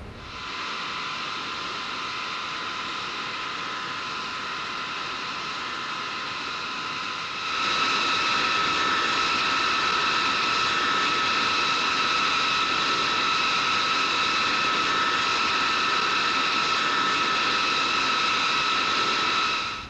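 A Boeing 720 jet engine spools up in X-Plane, a steady whining hiss with high tonal hums that steps louder midway and holds a constant roar.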